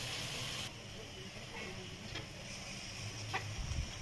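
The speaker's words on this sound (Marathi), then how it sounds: "कुकरच्या शिट्ट्या होत आहेत" A pressure cooker on a medium gas flame, with millet flatbread being prepared nearby, gives off a faint, steady hiss of steam. The hiss drops in level after the first moment and continues quietly with small clicks.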